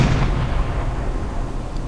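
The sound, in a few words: explosion from ship being shelled in video game Silent Hunter 4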